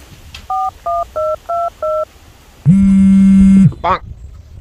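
A run of five evenly spaced touch-tone dialing beeps, crisp and close, followed by a longer ringing-style tone and a brief warbling sound.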